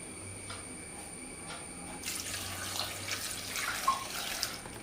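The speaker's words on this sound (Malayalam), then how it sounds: "വെള്ളം ഒഴിക്കുന്ന കാണിക്കാം" Water begins pouring after a quiet moment, a soft splashing stream running into a pot of Kerala yam curry for a few seconds, fairly faint.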